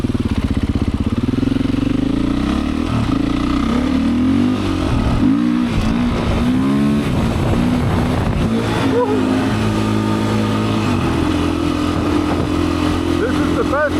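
A Beta 500 dirt bike engine pulls loudly and close along a Michigan trail loop, with smooth revving that rises and falls; a rider talks over it at times.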